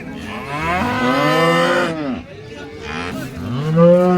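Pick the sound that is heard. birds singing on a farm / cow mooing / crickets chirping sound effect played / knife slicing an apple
cow mooing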